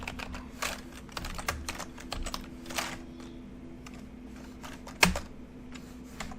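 Fingers type steadily on a computer keyboard at close range, a quiet run of irregular key clicks with a slightly louder strike near the end and no talk.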